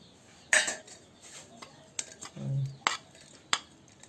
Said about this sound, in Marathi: जेवण वाढायचं, ताट भरायचं चाललंय.